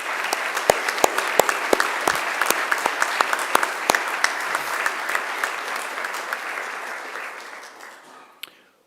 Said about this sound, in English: I'd ask you to give them a round of applause too